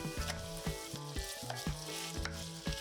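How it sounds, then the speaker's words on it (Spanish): Minced meat and onion fry in olive oil in a pan for chili con carne, a steady close sizzle broken by repeated scraping and stirring strokes, with no voices. "Doramos la cebolla en aceite de oliva, claro, y con una pizca de sal. Añadimos la carne."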